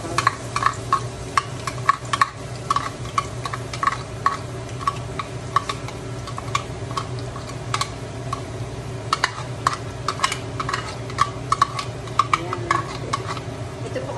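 Garlic sautéing in a pan for palabok, a steady soft sizzle with scattered ticks and clinks of a utensil against the pan running throughout, moderately quiet with no talk.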